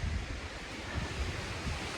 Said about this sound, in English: And it's very windy and starting to rain.